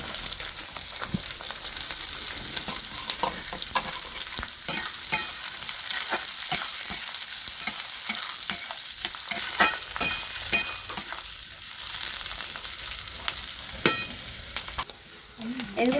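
Sliced onions, dried red chillies and chopped green chillies fry in hot oil, a loud steady sizzle with frequent scraping stirs and light clatter of the spatula against the pan, close and without talking.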